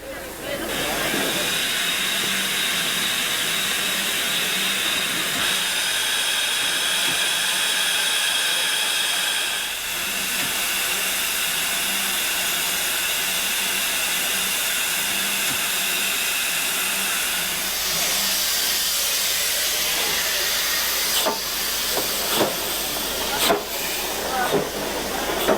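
The Flying Scotsman steam locomotive, visiting Australia, gives off a steady, loud hiss of escaping steam that runs on and on, with some clanks and a few sharper bursts near the end.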